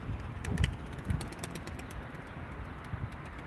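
Pigeons kept for a bird auction coo in low, soft, repeated throaty bursts close by, with faint chirps and light background rustle between calls.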